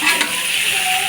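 Fish chorchori is stirred as it fries in a pan, a loud, close, continuous sizzle with a few scraping strokes near the start.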